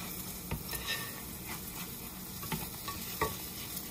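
Vegetable omelette frying in a pan, a steady close sizzle with light scraping and clinking from a spatula against the pan.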